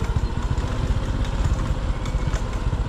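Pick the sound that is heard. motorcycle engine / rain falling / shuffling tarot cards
motorcycle engine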